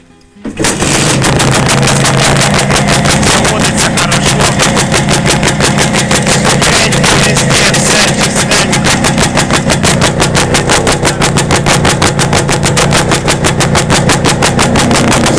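A Muravey motor scooter with a cold engine starting and then running, a loud, close, rapid steady putter of single-cylinder firing pulses that continues without pause.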